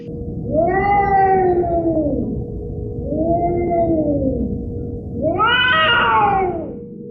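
A woman's scream that sounds like a screeching cat: three long, loud wailing cries that rise and fall, the last one the highest and harshest, with no talking.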